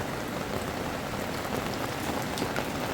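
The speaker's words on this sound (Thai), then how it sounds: "ฝนตก" Steady rain falling on a farm, a dense continuous hiss of drops hitting surfaces with no pauses, fairly close and even in level.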